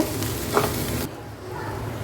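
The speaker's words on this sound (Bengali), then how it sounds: "এবার এই মশলার মাঝে চালটাকে ভালোভাবে ভেজে নেব।" Washed rice being fried and stirred in oil and spices in a pot for beef tehari, a steady close sizzle with soft stirring scrapes, louder in the first half and then quieter.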